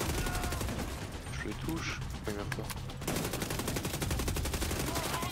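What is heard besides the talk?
PP19 gunfire in The Division 2 video game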